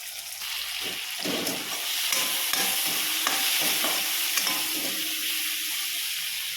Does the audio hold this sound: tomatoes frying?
yes